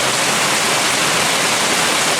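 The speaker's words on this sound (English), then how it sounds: "I really don't want to do it in the pouring down rain" Heavy pouring rain falling steadily, a loud, dense and unbroken hiss with no voices over it.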